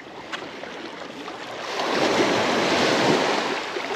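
Ocean surf washes onto a beach, building into a broad rushing swell midway with some wind buffeting the microphone.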